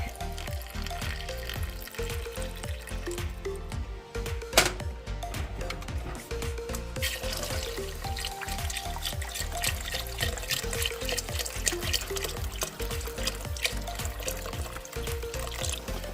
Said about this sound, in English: we're going to add a little bit of veg stock